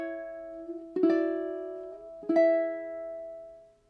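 A ukulele plays a short passage from a song: a held note, then two plucked chords that slide up the neck, each ringing out and fading, heard alone and close.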